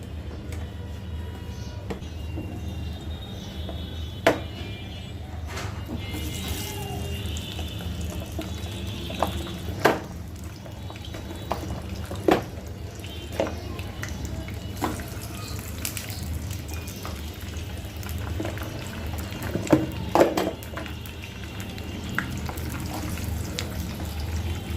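Kolija (liver) singara frying in plenty of hot oil, a steady close sizzle with scattered sharp pops and crackles throughout, no voices.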